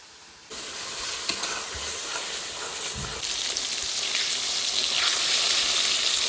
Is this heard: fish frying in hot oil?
yes